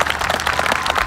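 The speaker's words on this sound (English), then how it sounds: "Please give them a round of applause." A short patch of applause at a 2024 graduation ceremony honoring the class's teachers, with many hands clapping in a loose, close patter for about a second.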